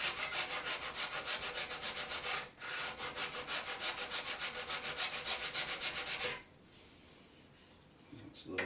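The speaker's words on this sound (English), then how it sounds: "I'm going to take a file and just kind of go right up against that and bring that." A file rasps against wood on a lap steel guitar, a close, rhythmic series of gritty back-and-forth strokes that stops with a brief pause partway and ends in quieter handling.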